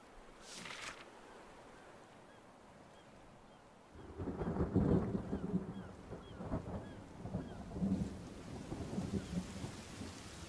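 Rain and rolling thunder in the survival video game The Forest, a quiet wash of rain at first, then deep rumbling thunder swelling in after four seconds and lingering in heavy waves.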